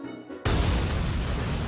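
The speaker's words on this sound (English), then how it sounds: "An explosion has occurred on board." A sudden loud explosion on board a ship in Valkyria Chronicles 4 cuts in after a quiet moment, followed by a sustained roaring, rumbling blast that stays dense and loud to the end.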